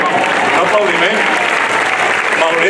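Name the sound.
audience applause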